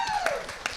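A forum audience at a recycling event claps in a short burst, a few distinct hand claps over a soft background with a voice faintly present.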